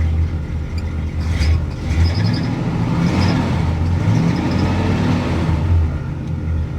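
A 1965 Cadillac engine runs steadily at idle on low fuel, a continuous low rumble that holds nearly even throughout with a few faint higher clicks over it. No one speaks.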